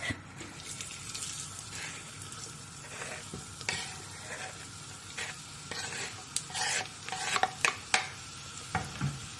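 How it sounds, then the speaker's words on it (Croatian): Onions hitting hot oil in a deep pot for a Bosnian veal goulash, a continuous crackling sizzle punctuated by sharper pops and clicks of stirring, close and moderately loud. "Kada se ulje zagrijalo, dodajem luk"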